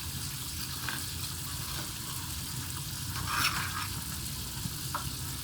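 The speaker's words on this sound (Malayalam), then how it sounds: "ഇവിടെ ചിക്കൻ വറുക്കാൻ വെച്ചിട്ടുണ്ട്." Chicken frying in a pan on a home stove gives a steady, soft sizzle with faint bubbling and a few brief clinks, even and moderately quiet, and nobody speaks.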